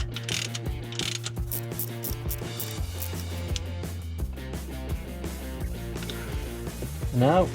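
A ratchet tightens the gearbox drain plug on a BMW E30 318is, giving rapid, close mechanical clicks in steady bursts over background music.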